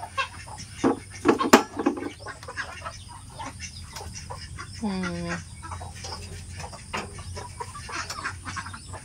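Noisy calls from a mixed flock of ducks and chickens in the rural Philippines, with a burst of loud calls early on and a steady background of quacks, squawks and chatter.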